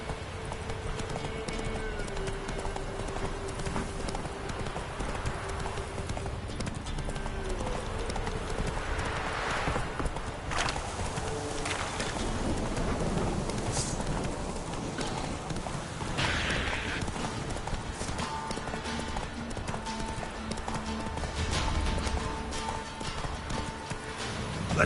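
Roach the horse gallops across The Witcher 3 game world with rapid, rhythmic hoof clip-clops that carry on throughout, joined by an occasional neigh and rustling movement, all close and moderately loud.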